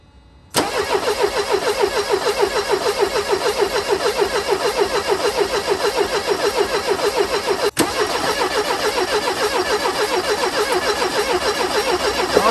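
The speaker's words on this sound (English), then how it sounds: "So let me give the car a start" A Mercedes 190E with faulty, poorly spraying fuel injectors cranks and catches, then settles into a steady, loud close idle with a brief dropout midway and no talking.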